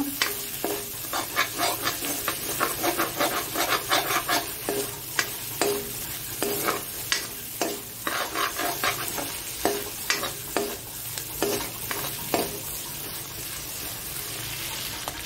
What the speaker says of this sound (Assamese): এতিয়া অলপ দেৰি ভাজি থাকিম।